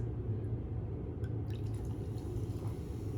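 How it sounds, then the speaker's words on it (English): Sparkling Italian wine poured to top off a spritz cocktail, a steady close trickle of liquid with small drips and fizzing, over a low constant hum. "We're gonna top it off with the Italian bubbles"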